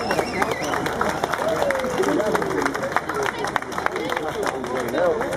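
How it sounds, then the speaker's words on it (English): An outdoor crowd at a village maypole raising gives a burst of clapping and cheering, dense and continuous, with chatter and a speaking voice mixed in. "everybody who didn't lift it, a big round of applause for those who did lift it"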